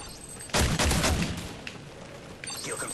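MP7 submachine gun fire in a first-person shooter video game: a loud, dense burst of rapid shots lasting about a second, then scattered fainter shots and game sounds, without talking.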